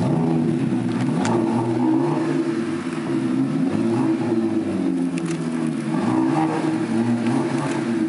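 A BMW 1 Series M Coupé engine revs repeatedly, rising and falling in pitch in several close, loud surges with no talking over it.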